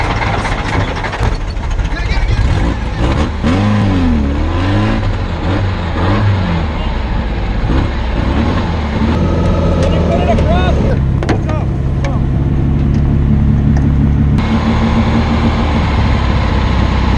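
A stock VW Bug engine, a car racing the Baja 1000, fires up after a push start with dropped clutch, running loud and continuous with rough revving, while people talk and shout over it.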